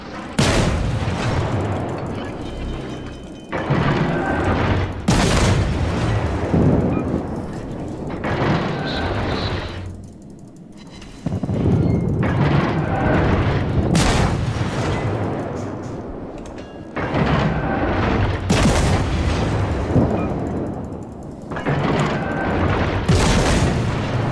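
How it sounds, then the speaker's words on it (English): Torpedo explosions in the naval battle game World of Warships, several heavy booming blasts in bursts with a rumbling roar between them, loud and up close. "And there's the torpedoes. Boom, boom, boom, boom, boom, boom, boom, boom"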